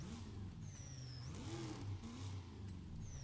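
Turbo induction noise from a W12 engine revving in the Forza racing game, a steady mid-pitched engine drone with a rising and falling rev and a thin whistling whine above it, continuous and close.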